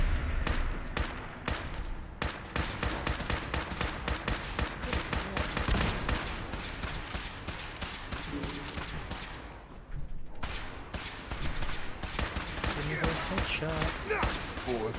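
Gunfire in Fallout 4 VR plays as dense, continuous bursts of rapid shots and thuds, loud and close, with a brief lull near the end before firing resumes.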